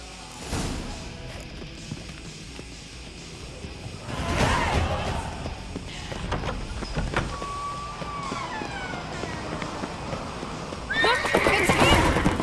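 A horse whinnies and hooves clip-clop in Witcher 3, with galloping hoofbeats running throughout, a drawn-out neigh midway and a louder burst near the end amid game sound effects.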